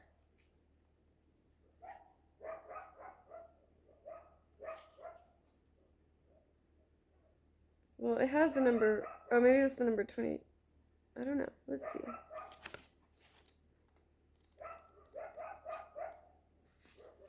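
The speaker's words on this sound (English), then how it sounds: "You can hear the dogs barking in the background." Sled dogs barking and yipping in the distance, with someone talking quietly over them.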